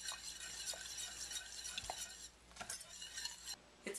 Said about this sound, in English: you're going to whisk that together and bring it to a boil